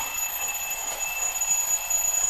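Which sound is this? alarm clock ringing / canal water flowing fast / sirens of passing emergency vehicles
alarm clock ringing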